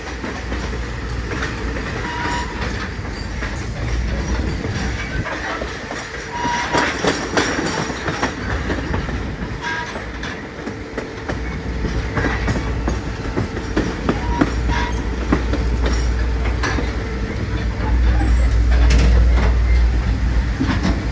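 A Norfolk and Western and Southern Railway freight train rolls past nearby, with continuous wheel clatter and rhythmic clickety-clack over rail joints, a deep rumble building louder toward the end.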